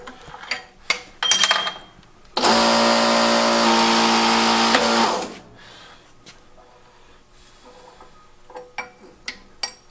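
A shop press pushes a race out of a connecting rod, a loud, steady, humming mechanical whine lasting about three seconds, framed by clanks and knocks of handling before and after.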